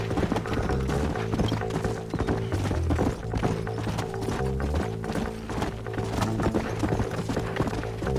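Horses' hooves clip-clop steadily in the video game Red Dead Redemption on Xbox 360, with a continuous trotting rhythm over game music and ambience, alone without speech.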